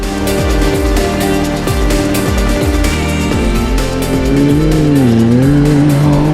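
A T3 SSV Zephyr side-by-side races at the Dubai International Baja, its engine revving hard through rapid shifts with rising and falling pitch, loud and close, and tires squealing at moments.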